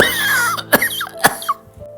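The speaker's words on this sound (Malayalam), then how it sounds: "കുറച്ച് ദിവസമായിട്ട് തുടങ്ങിയ ചുമയാ" A man coughs in a Malayalam drama scene. There are two sharp, close coughs about half a second apart, with strained throaty vocal sounds before and between them.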